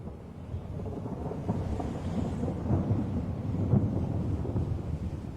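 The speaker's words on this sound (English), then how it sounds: "Far out at sea, a spring storm brews." Rumbling thunder rolls through a spring storm far out at sea, a steady low roar with rain and wind noise swelling slightly toward the end, no voices present.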